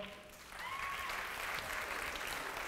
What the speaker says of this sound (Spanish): Un aplauso a la gente de la Vallejo